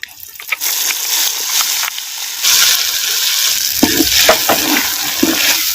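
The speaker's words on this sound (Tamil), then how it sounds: "அரைச்சி சேர்த்த மசாலாவை அப்படியே தேங்காய் எண்ணெயில் நல்லா அப்படியே பச்சை வாசனை போகிற அளவுக்கு நல்லா அப்படியே கிண்டு கிண்டு நல்லா கிண்டுறோம்" Freshly ground masala sizzles in coconut oil as it is stirred for a black urad dal kuzhambu, with a loud, steady frying hiss, scraping strokes of a spoon and no talk.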